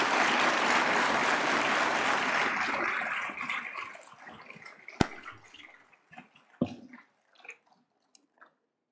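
Award ceremony audience in a hall giving a big round of applause, dense clapping that fades over several seconds into a few scattered late claps and sparse knocks.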